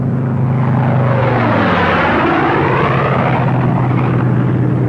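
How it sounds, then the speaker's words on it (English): Loud, close roar of a Republic P-47 Thunderbolt single-engine propeller fighter from World War II, a dense engine drone with a pitch that sweeps as it passes, filling the whole stretch without voices. "the Thunderbolt was the largest of all the Allied single-engine fighters"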